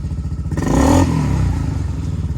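A 2019 Honda Forza MF-13 250cc fuel-injected scooter engine idles while warming up, a steady low throb with a brief rise in revs near the start before settling back to an even idle.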